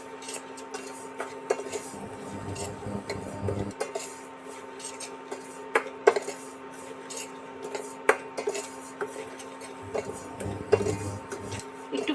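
A utensil stirs semolina and sugar in a dry pan, giving scattered scraping clinks and taps against the metal, close and fairly quiet, with brief low rumbles between.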